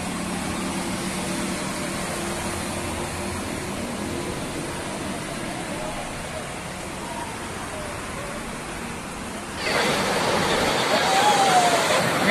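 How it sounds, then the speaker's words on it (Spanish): Swollen El Limón river in Aragua overflowing its banks, a steady loud broadband rush of floodwater that swells louder near the end, with no talk over it. "En estos momentos, río Limón está desbordado. Se salió de su cauce."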